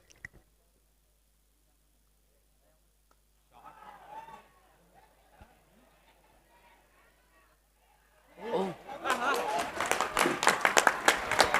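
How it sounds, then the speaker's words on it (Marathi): Applause at a cricket match after a catch: quiet murmuring voices at first, then a burst of scattered clapping and crowd noise rising near the end, fairly close and growing louder. "टाळ्यांचा गजर चारी बाजून आलाय"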